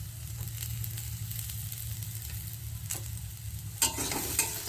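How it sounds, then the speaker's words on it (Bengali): Chopped carrots frying in a pan with a little salt and turmeric, a continuous close sizzle broken by a few sharp scrapes of a stirring spoon near the end. "এবার এগুলো ভালো করে ভেজে নেব"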